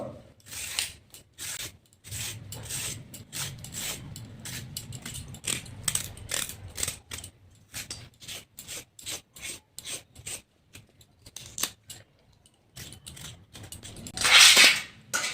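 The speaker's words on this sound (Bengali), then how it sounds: "তাহলে আমি গাজরগুলি ছুলে নিই, এইভাবে ছুলে নেব।" Carrots being peeled one by one with a peeler for carrot halwa, a steady run of short scraping rasps in quick rhythm, close and fairly loud, with a brief louder scrape near the end and no talking.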